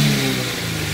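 Subaru BRZ fitted with an SBD500X turbo kit, its engine revving loudly and steadily for a moment, close by with no voices.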